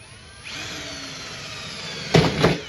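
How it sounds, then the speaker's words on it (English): A power drill with a small bit bores a pilot hole through wood into cardboard below, a steady close whine lasting about two seconds before louder bursts as the bit breaks through. "to just let the drill go into the cardboard box"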